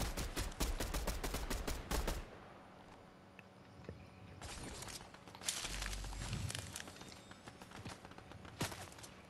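Rapid bursts of gunfire from a Fortnite match, a dense volley of sharp shots up front followed by scattered louder and quieter shots with footstep-like shuffling between them.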